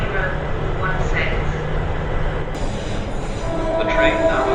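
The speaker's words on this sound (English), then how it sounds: "The train now approaching platform 16" A train rumbles into platform 16 at Clapham Junction station with steady wheel and engine noise, a brief metallic squeal, and a muffled announcement heard over the din.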